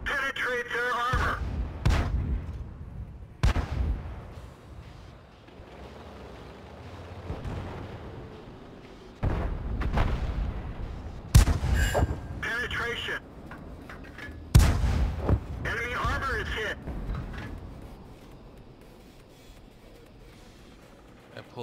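Tank cannon fire in World of Tanks on the Ensk map, several heavy booming shots spaced a few seconds apart, some close and loud, others more distant, with rumbling decay and occasional talk.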